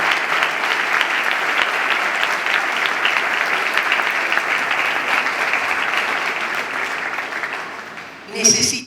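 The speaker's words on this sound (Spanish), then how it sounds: "Dale un aplauso al Señor." A large church congregation claps loudly and steadily for several seconds, fading slightly toward the end before a voice briefly starts up.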